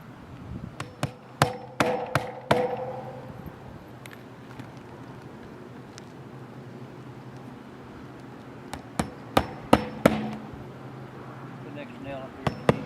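Nails are hammered into dimensional roof shingles in quick bursts of sharp, close hammer blows, with a cluster early, a quiet gap, another cluster later, and a few lighter taps at the end.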